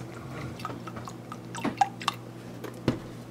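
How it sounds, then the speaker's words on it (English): Oat milk barista blend is poured into a milk frother, producing soft liquid glugs and a few sharper splashes and drips over a quiet background hum. "I'm going to pour some into my frother."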